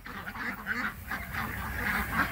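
Pekin ducks in wet weather quacking steadily in a chorus of repeated nasal calls, close and fairly loud, with no speech.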